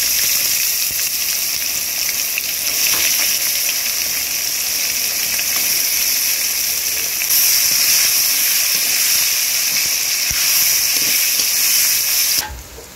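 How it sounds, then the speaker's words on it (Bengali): Chopped onions fry in hot oil over a bay leaf and cumin tempering, giving a loud, steady, close sizzle that runs without a break and with no voices. "পেঁয়াজ ভাজা হয়ে গিয়েছে"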